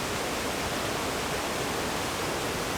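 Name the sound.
waterfall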